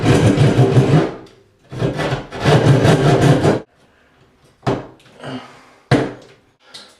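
Bath exhaust fan housing being trimmed by half an inch, heard as several loud, bursts of rasping, scraping cutting separated by short pauses and a few sharper knocks, close up with no talk.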